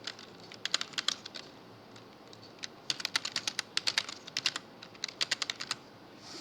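Typing on a computer keyboard while writing Python code: quick bursts of light clicking keystrokes separated by short pauses, close and fairly quiet, with no talk.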